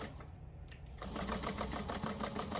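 A sewing machine stitches shut the corner of a tote bag, its steady rapid needle chatter running close and loud, growing busier and fuller about a second in.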